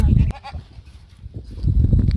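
Goats being driven out to graze in the forest bleat loudly and close by, with one sharp call at the start and more overlapping bleats near the end.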